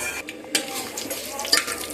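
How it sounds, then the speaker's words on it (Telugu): Whole biryani spices fry in hot ghee and oil while a spoon stirs them, giving close scraping clinks against the pot over a soft sizzle in a short burst. "వేడెక్కిన తర్వాత బిర్యానీ దినుసులన్నీ వేసుకుని దోరగా వేయించుకోవాలి"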